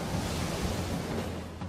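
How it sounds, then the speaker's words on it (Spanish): The Qiantang River tidal bore, moving at over 40 kilometres per hour, gives a dense, continuous roar of rushing water and surf that stays loud throughout with no break. "El macareo se mueve a más de 40 kilómetros por hora, la velocidad habitual del macareo del río Qiantang."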